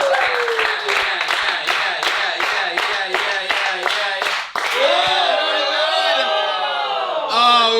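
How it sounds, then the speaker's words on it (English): An audience at a comedy battle show claps in a quick, steady rhythm while a wheel is spun, then the beat breaks into a louder sustained wash of cheering and voices near the end. "clap for the wheel."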